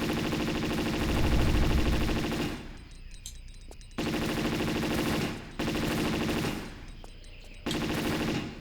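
Rapid automatic gunfire in a Tomb Raider custom level set in an Incan ruined city comes in several sustained bursts, loud and close, with short quiet gaps between volleys.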